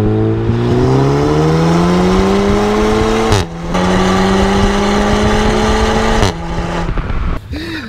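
An Audi A3 1.8 fitted with a RaceChip tuning module accelerates hard, its engine note climbing steadily through the gears with two brief dips at the shifts, loud and close throughout.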